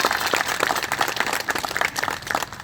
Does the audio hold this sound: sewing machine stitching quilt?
no